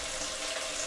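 Chicken broth being poured into a pot for tinolang manok, a short, steady splashing pour of liquid heard up close.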